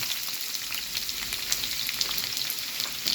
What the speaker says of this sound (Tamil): வெங்காயம் பச்சை மிளகா நல்லா வெங்காயம் வதங்கட்டும்